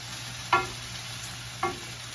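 Onions and jalapeño cooking in a pan, a quiet steady sizzle with two brief stirring scrapes a second apart, close and faint, no talk.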